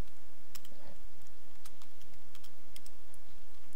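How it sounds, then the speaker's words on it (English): Slow, uneven clicks of a computer keyboard being typed on, sparse individual keystrokes spread out over a constant steady background hiss, with no talking. "Slow typing."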